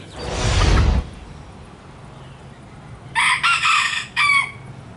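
A rooster crows once up close, loud and hoarse, then a few clucking calls follow after a pause.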